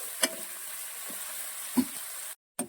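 Onions for chicken biryani fry in a pan, giving a quiet, steady high sizzle with a few soft clinks and taps of stirring and one brief gap of silence near the end.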